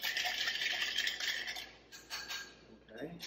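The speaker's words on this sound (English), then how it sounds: "Stir that up." Whiskey and Campari cocktail being stirred, a continuous scraping, rattling swirl of ice in a glass, close and fairly quiet, with brief voices near the end.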